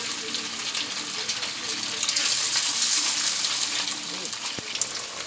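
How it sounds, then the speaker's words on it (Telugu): Fish pieces dropped into hot oil fry with a loud, steady crackling sizzle close by, swelling midway and carrying on throughout, with a single sharp tap of a spoon near the end. "ఆయిల్ వేడైంది అండి, ముక్కలు వేసుకుందాం."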